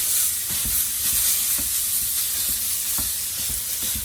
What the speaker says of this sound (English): on medium heat, we're gonna start browning a pound of ground beef